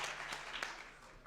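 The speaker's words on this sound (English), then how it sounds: "let's do clapping for everybody." Audience clapping at a Bitcoin conference panel, a faint, distant wash of scattered hands that slowly fades out.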